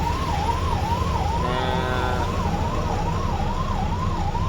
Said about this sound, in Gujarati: ભરૂચ ટ્રાફિકમાં એમ્બ્યુલન્સ પછાણી ભાઈ ભયંકર આમાં પેશન્ટ છે એમરજન્સી